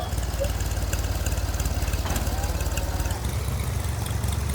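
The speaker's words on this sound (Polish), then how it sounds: "no ładujemy teraz kosiarkę już." A lawn mower engine runs steadily as the mower is loaded up, giving a close, even low-pitched chugging pulse throughout with a faint rattle and no clear talk.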